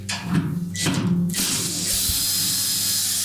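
Hex head 10-24 screws are loosened on the brake of a Whirlpool washer: a few short bursts of whirring driver and clicking, then a steady hiss of background noise, with no talk.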